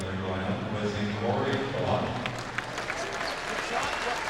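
Crowd murmur and scattered applause fill a basketball arena during a 1997 Cleveland Cavaliers vs Los Angeles Lakers NBA game. The steady, moderate ambience runs under continuous talking throughout.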